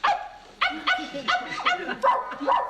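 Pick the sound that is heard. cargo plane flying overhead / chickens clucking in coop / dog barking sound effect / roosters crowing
dog barking sound effect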